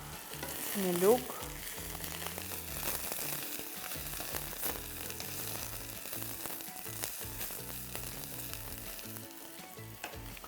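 Mushrooms sizzle steadily in a frying pan, a dense continuous crackle of hot fat with a brief stir or utensil clatter near the start, close and moderately loud throughout.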